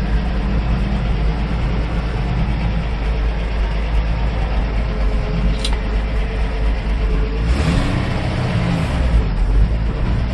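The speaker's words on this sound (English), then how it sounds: "F350. It's a 1-ton dump truck." A 1957 Ford F350 one-ton dump truck engine with electronic ignition runs steadily at idle, a loud continuous rumble outdoors with a brief faint click partway through and a slight shift in tone near the end.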